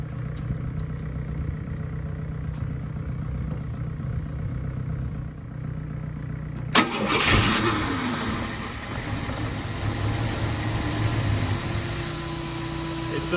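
Ford F100 six-cylinder cross-flow engine in a barn-find truck, quiet at first, then cranking over and catching suddenly into a loud, steady idle with a rising rev, close by.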